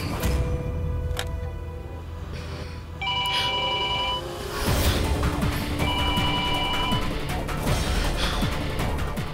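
A telephone rings twice in a drama scene, each burst of electronic trilling lasting about a second and standing out clearly over a busy, noisy background.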